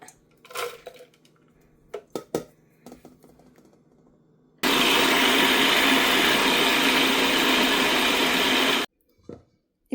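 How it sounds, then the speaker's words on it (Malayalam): Scattered kitchen clatter and taps, then a food processor grinding oats and nuts, loud and continuous for about four seconds, stops abruptly, followed by a few more clinks. "ഈ ഫുഡ് പ്രോസറിലാണ് പ്രോസസ്സറിലാണ് പൊടിച്ചെടുക്കുന്നത്"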